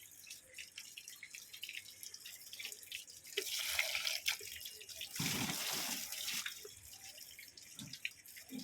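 Liquid fertilizer poured onto potted terrace garden plants, a splashing, dripping pour that swells into two louder bursts in the middle before easing off, with no talking.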